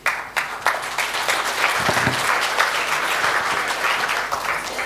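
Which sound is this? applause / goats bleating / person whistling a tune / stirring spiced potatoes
applause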